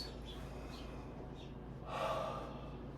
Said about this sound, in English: Take 2 breaths.